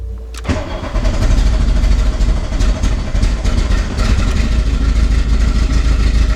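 A MK2 VW Golf GTI engine cranks briefly, catches and settles into a loud, lumpy, uneven running rhythm, recorded up close with no voices.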